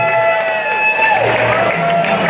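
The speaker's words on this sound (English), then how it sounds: "So give yourself a round of applause." Audience round of applause at the GSWS 2018 closing ceremony, a steady wash of crowd clapping with some cheering, loud and sustained, with a prominent tonal hum over it.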